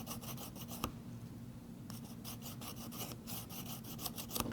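A blade of bent-handle double shears is rubbed along its bevel on a sharpening stone in repeated, close rasping strokes with a short pause in the middle, alone without talk.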